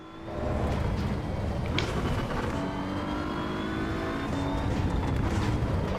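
BMW M4 engine in the Assetto Corsa EVO racing game, droning steadily and loud throughout with a sustained high whine and shifting engine pitch, with no talk over it.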